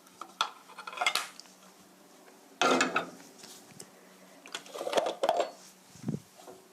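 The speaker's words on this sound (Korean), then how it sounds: "남은 시럽도 이렇게 끼얹어 주시고요." A spoon clinks and scrapes against a dish or pot while leftover syrup is spooned over honey-preserved carrots. The metallic taps come close and irregular, with a louder clatter near the middle and softer scrapes after it.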